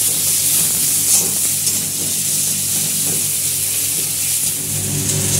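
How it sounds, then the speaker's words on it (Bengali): Spice masala with turmeric and salt stir-fried in a pan gives a loud, dense, continuous hissing sizzle close up, with a few soft stirring scrapes and no voices. "মশলাটাকে আমরা নেড়ে নেড়ে কষিয়ে নিচ্ছি"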